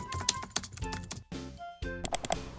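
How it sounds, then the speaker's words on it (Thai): Quick, irregular taps on a computer keyboard clatter up close, with brief pauses between bursts of keystrokes and no talk. "คีย์บอร์ดหรือแป้นพิมพ์"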